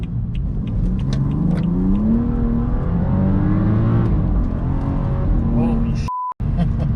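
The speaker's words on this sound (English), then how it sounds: "we will see what she does when we get her out and start going through gears wide open throttle" A BMW 435i with VRSF bolt-ons and BootMod3 tune pulls hard at wide open throttle through the gears, its engine note climbing in pitch and then dropping at each shift, loud and steady inside the car, with a brief cut near the end.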